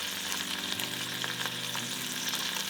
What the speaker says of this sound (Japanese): しっかりと炒めてエビの殻と混ぜ合わせていきます